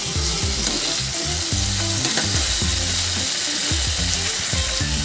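Potatoes and spices sizzle loudly in a hot pan as water is poured in, a steady frying hiss with repeated low scraping stirs throughout, close and without talk.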